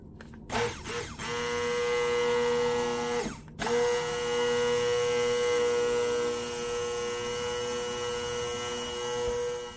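A blender whirs steadily while mixing a concentrated soap batter for bay rum cold process soap, with a few brief on-off pulses at the start before settling into a loud, continuous motorized hum.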